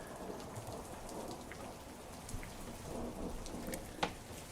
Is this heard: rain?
yes